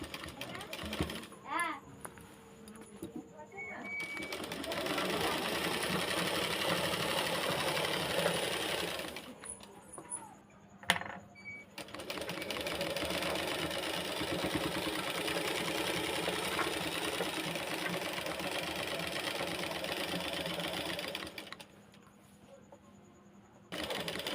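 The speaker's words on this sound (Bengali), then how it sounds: "দাগ বরাবর করে কিন্তু আমাদের সেলাইটা দিয়ে নিয়ে আসতে হবে" A sewing machine stitches along a marked line, running in long, steady whirring stretches broken by brief pauses and a sharp click.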